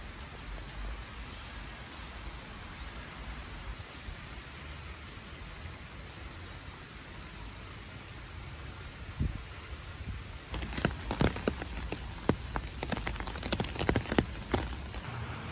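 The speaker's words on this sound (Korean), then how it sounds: "근데 빗소리 들으면서 일하니까 너무 좋아요" Steady rain falls continuously, with sharper drips and patters growing more frequent toward the end.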